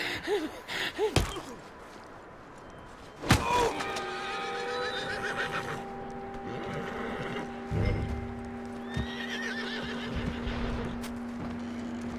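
A horse in Red Dead Redemption 2 whinnies and snorts loudly near the start, then hooves clip-clop in a short burst before a long steady tone and scattered game sounds.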